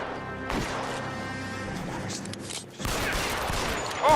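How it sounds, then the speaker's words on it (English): Gunfire from a shootout in the video game LA Noire, loud dense volleys of shots with crashes and impacts, close and continuous, a brief lull partway through, with a player's voice faintly over it. "shot the gun out of his hand"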